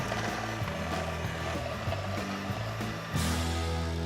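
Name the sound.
electric whisk creaming butter and golden caster sugar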